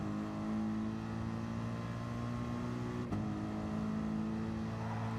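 A racing car engine in Gran Turismo Sport holds a steady droning hum through a corner exit, with one brief dip in the middle and otherwise constant, moderate level.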